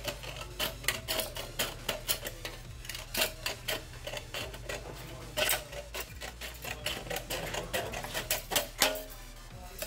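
An aluminum pop can being cut from the inside, giving a dense run of sharp snipping and crunching clicks in an irregular rhythm, close but fairly quiet, with no voices.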